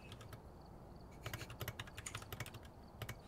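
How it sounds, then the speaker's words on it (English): A loud computer keyboard being typed on, quick bursts of sharp clicks in irregular runs, near and fairly quiet overall, with no talking. "Don't mind the sound of my keyboard. I have a loud keyboard."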